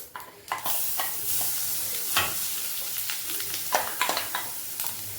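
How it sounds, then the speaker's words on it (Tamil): Mustard seeds crackle and pop in a hot pan, and then a ground paste is added and fries with a steady sizzle. Scraping stirs and sharp pops sound close by all the way through. "கடுகு பொரிய ஆரம்பிச்சிருச்சு இப்போ நம்ம இந்த அரைச்சி வச்சுருக்கோம்ல இந்த விழுது எல்லாத்தையும் இதில் போட்டுடணும்"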